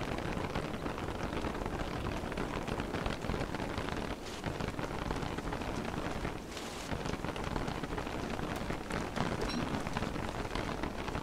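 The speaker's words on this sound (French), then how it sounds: "Allez, la pluie là, sérieusement." Steady rain pours down in the Don't Starve Together video game, a dense, unbroken hiss of falling water that fills the whole stretch with only slight dips in intensity and no voices.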